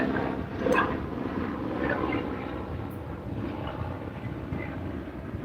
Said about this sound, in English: Holy, there's a helicopter.